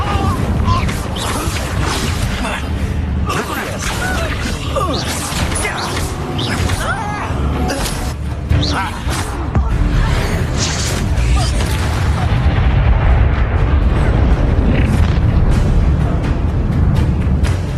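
A fire spell is cast repeatedly during Hogwarts Legacy combat. Its bursts and booms crash through dense, loud battle noise with whooshes and impacts, and voices speak in the fray.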